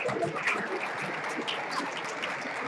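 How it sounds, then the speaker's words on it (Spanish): Spectators at a combat robot event cheer and applaud for the robot Scratch, a brief patter of clapping from a modest crowd mixed with scattered voices. "Vamos ahora con Scratch, la afición de Scratch. Empieza a animar."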